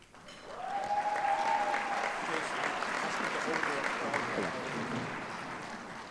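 An audience applauds an honoree being announced at a student awards recognition ceremony, sustained clapping from a crowd that holds steady for several seconds, with a brief voice over it early on.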